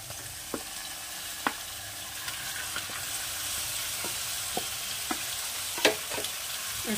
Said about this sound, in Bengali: এবারে এই ম্যারিনেট করা মাংস আমি এর মধ্যে দিয়ে দেবো।